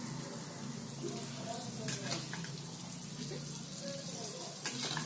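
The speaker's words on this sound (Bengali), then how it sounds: "ওই দেখুন আমি চিকেনটা দিচ্ছি" Chicken pieces dropped into a pan of browned fried onions set off a soft, continuous sizzle, moderately quiet and close, with a few faint clatters and scrapes and no talking.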